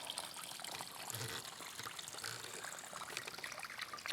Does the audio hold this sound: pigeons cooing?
no